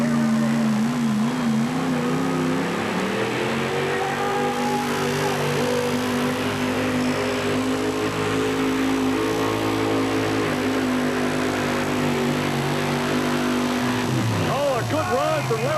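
A 1972 four-wheel-drive pulling truck's engine roars loud and steady through a 1991 NTPA truck pull at Rock Springs, holding a sustained high drone that shifts pitch near the start and again at the end, with an announcer talking over it.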